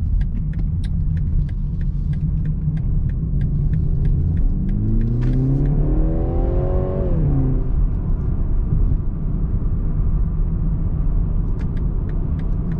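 A 2020 BMW 330i G20 accelerates hard from inside the cabin, its engine note climbing steadily in pitch over a few seconds before easing off, carried over a constant loud road rumble.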